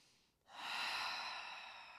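Deep breathing during a calming stretch: one long, airy exhale through the mouth, close and soft, starting after a brief pause and fading slowly.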